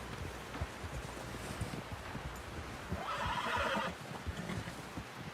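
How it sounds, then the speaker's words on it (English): A horse in the video game Red Dead Redemption 2 gives a drawn-out whinny midway, over soft hoof clops and rustling wind in the background. "help John down off this horse"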